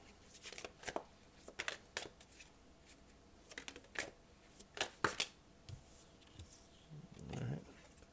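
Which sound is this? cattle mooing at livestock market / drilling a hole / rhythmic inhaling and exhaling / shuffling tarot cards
shuffling tarot cards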